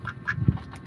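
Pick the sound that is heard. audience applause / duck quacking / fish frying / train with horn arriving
duck quacking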